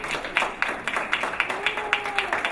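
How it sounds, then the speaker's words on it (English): Scattered audience clapping at a self-advocates conference: a thin, fairly regular patter of separate claps at a moderate level, with a little voice underneath. "You could clap for yourself"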